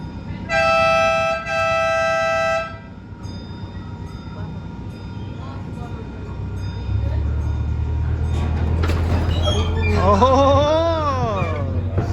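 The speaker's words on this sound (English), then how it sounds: "The engines are starting." Park railroad train on the Paradise & Pacific Railroad at McCormick-Stillman Railroad Park: two loud horn toots, then an engine rumble that builds and holds as the train gets going, with voices talking over it near the end.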